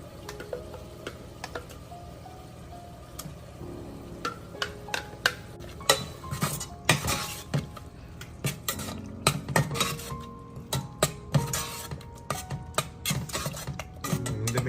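Ground masala paste being added and stirred into a fish curry in a pot, quiet at first, then a busy run of metal spoon scrapes, clinks and taps against the pan growing louder and more frequent.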